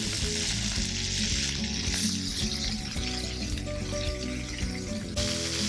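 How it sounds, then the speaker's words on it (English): Carrots and sliced onion sizzle loudly in a pan alongside browning sazon chicken, a dense, continuous hiss of frying close up with occasional stirring scrapes and no talk. "I'll add the carrots and the sliced onion."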